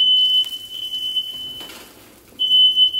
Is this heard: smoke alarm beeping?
yes